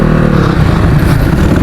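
A motorbike rides down a sloping dirt road through jungle near Chitlang. Its engine gives a steady, loud, close rumble throughout, with no talk over it.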